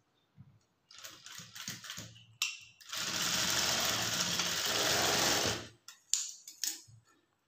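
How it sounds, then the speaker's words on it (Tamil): A sewing machine stitches a blouse dart, starting with short bursts of running and then one long continuous run of several seconds before a few quick stops and restarts. "அந்த லைன் மேலேயே தையல் போடுங்க"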